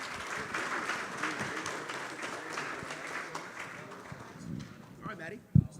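Applause at a live Bitcoin conference panel, moderate clapping from the audience blended with background chatter and a voice speaking over it, fading toward the end before a brief loud thump.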